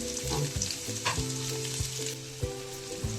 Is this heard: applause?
no